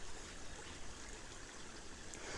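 Olinda Creek flowing steadily, a constant close broadband rush of running water with no voices throughout.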